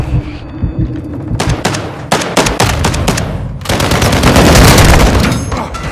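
Call of Duty gunfire: bursts of rapid automatic shots and single heavy cracks, sparse at first then dense and loud toward the end, with thuds and booms mixed in.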